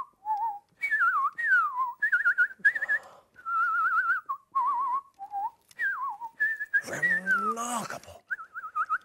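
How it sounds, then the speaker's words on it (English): A person whistles a lively tune in short warbling phrases, close and clear, with a brief squealing animal-like cry partway through. "But what tune is he whistling to this time?"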